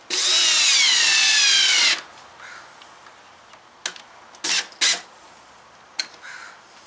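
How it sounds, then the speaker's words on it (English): Power drill driving screws into the hatch supports of a homebuilt teardrop trailer: one loud, close two-second whir that stops abruptly, followed by a few short clunks and taps. "so now we're ready to put a couple of screws in there on each side"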